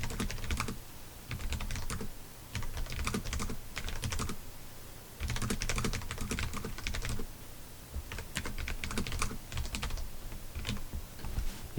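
Steady typing on a computer keyboard while entering a comment, with dense runs of clacking keystrokes broken by short pauses, close and clear with no voices.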